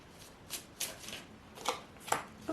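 Oracle cards being shuffled and drawn, with soft riffling and sliding card sounds in a few quick, close bursts against a quiet background.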